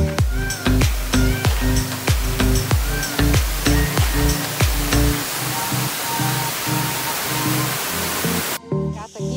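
Waterfall at Barranco Blanco in Mijas, a steady broadband rush of falling water running continuously throughout, with strong low tonal bursts in the first half and an abrupt change near the end.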